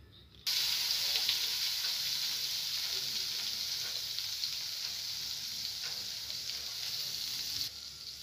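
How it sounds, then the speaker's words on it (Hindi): Cumin and yogurt hit hot ghee in a kadhai for tempering, a loud steady hiss that starts abruptly and holds evenly before cutting off near the end. "फिर इसमें थोड़ा सा घी के अंदर जीरा डाल के और दही का छोंक इसके अंदर पूरा डाल दिया"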